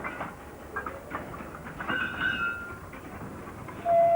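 Sealed freight wagons of a fast freight train rolling through a rail yard, soft rumbling with faint intermittent clanks and squeals at moderate distance, ending with a louder burst as a wagon passes closer.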